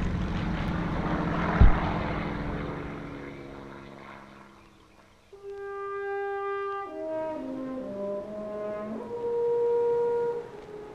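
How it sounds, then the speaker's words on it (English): Propeller-driven Spitfire and Hurricane fighter planes take off from a hastily built airstrip, a rough engine roar that fades away, then droning tones rise and shift as the aircraft climb, with no talk. "watching the Spitfires and Hurricanes taking off from the first of these hastily constructed strips"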